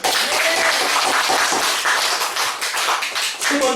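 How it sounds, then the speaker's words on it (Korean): A church congregation applauds during an Easter sermon, loud and close, with brisk overlapping clapping throughout and a few voices underneath. "박수."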